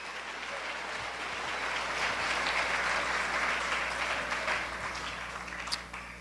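A church congregation applauds during a sermon, a dense, sustained wash of clapping that swells through the middle and tapers slightly toward the end, with no talk over it.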